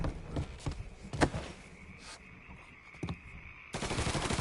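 Several sharp gunshots in the video game Mafia 3, irregular bursts of cracking fire with a tonal ringing hum between them, ending in a dense louder rush of noise.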